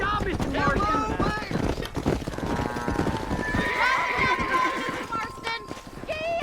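Galloping horse in the Western video game Red Dead Redemption, with rapid hoofbeats, a whinny, and a sustained musical score over characters' dialogue throughout.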